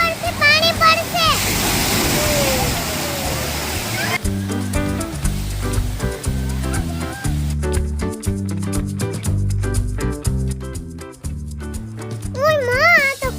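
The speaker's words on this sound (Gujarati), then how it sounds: "હમણાં ઉપરથી પાણી પડશે" At a water park, a loud rush of water pours down from above for a few seconds, then gives way to blaring music and excited children's voices nearby.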